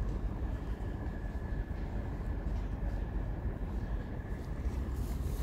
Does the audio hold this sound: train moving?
yes